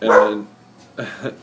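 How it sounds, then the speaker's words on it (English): A dog barks twice nearby indoors, a loud sharp bark followed after a short pause by a second, softer double bark, with a brief word spoken alongside. "that's my dog"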